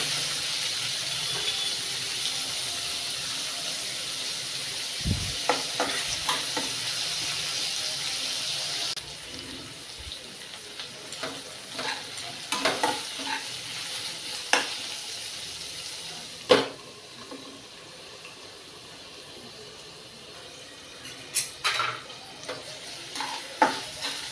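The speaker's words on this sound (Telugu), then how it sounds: "ఉల్లిపాయలు బ్రౌన్ కలర్ రావాలి, వచ్చేంత వరకు వేయించుకోవాలి" Onions and curry leaves fry until brown with a bright sizzle that fades after the first third, followed by scattered sharp scrapes and clinks of a spatula stirring the pan.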